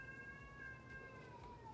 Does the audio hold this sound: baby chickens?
no